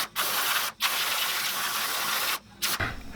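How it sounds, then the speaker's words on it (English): Compressed air from an air compressor blasts liquid out of the joints of a four-piece wooden paddle tail swimbait in loud, close hissing bursts, several spurts separated by short pauses. "I need to get all that I can out of the joints. I'm actually gonna get my compressor out here."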